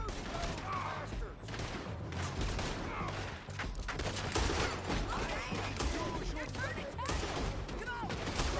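Gunfight in a town in Red Dead Redemption 2, a dense, continuous volley of revolver and rifle shots cracking in rapid irregular succession, fairly faint overall with shouting voices mixed in.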